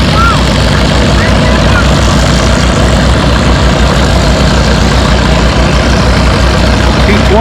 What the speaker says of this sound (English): Smoke starting to come out of that old diesel.